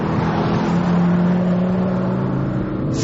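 A Ford Focus ST225 hot hatch accelerating, a continuous loud engine drone with steady harmonic tones rising slightly in pitch, close and alone without talk.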